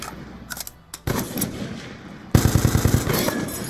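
Gunfire in Call of Duty: Black Ops 2 during an online match: sparse single shots at first, then a loud sustained burst of rapid automatic fire, no talking.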